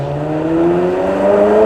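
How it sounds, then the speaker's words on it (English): A red Ferrari 360 with a mid-mounted V8 revs steadily at a supercar weekend, its engine note climbing smoothly in a close, sustained tone with no voices over it. "you can really hear that glorious V8 sing"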